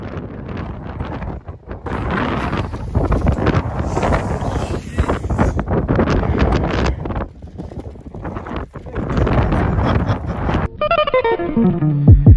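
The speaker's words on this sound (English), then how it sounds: "it's super, super windy" Strong wind roars and buffets the microphone at Kynance Cove on the Cornwall coast, a loud, continuous gusting rush with brief lulls, and a voice is faintly heard through it.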